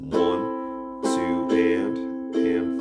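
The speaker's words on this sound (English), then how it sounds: "I might just use the standard go-to strum pattern, which will sound like this." A ukulele strums the standard down, down, up, up, down pattern for a song, with four bright chord hits in steady rhythm, close and clear with no voice over it.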